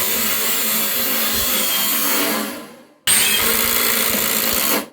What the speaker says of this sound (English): Let's try another drill.